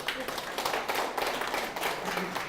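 An audience at a district office lecture for public officials claps in a brief, uneven burst, a moderate patter of hands overlapping with some background voices.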